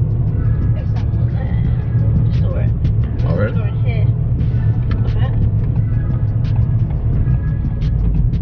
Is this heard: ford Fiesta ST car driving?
yes